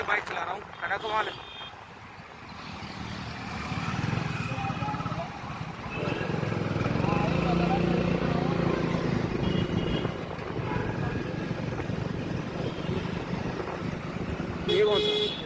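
A motorcycle engine drones steadily while riding, with wind noise and someone talking over it; the engine grows louder midway.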